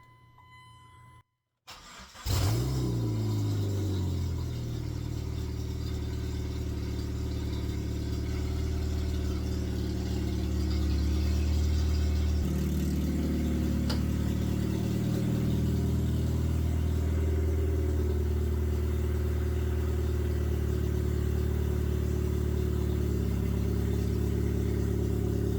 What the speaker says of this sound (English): test and see if the car starts